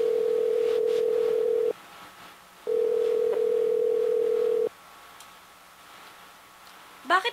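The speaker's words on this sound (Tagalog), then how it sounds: "tawagan na lang natin si Mercedes para papuntahin natin siya dito" A telephone call rings out unanswered: two long steady ringback tones separated by a pause, clear and even, with a soft brief sound at the very end.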